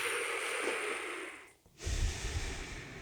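A person breathes audibly, a long airy inhale through the mouth, a brief silent pause, then a heavier, snorting exhale out through the nose, close and fairly loud.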